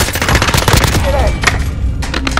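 Rapid enemy gunfire in the video game Call of Duty Warzone, loud and dense bursts of automatic shots crackling continuously with brief sharper impacts.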